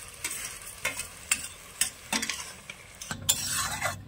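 Greens stirred in a pan with fried shrimp, a sizzling fry under repeated scraping stirs of a utensil against the pan, close and steady, with no talking.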